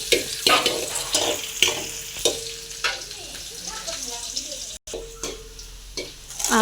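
Onions sizzle in hot oil in a home kitchen pan, with a steady frying hiss broken by regular scraping strokes of a spoon stirring them, close up, with a voice speaking faintly in places.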